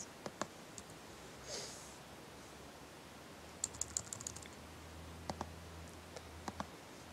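Scattered clicks of typing on a computer keyboard, a few isolated taps and then short bursts, fairly close and quiet against a faint room hum, with no talking.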